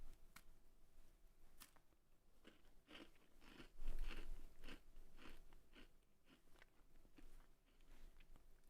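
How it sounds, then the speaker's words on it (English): Christmas cookies being chewed close to a microphone, a run of crunchy bites and crackly chewing with irregular rhythm over a low background hiss, faint overall. "you hear horrible chewing?"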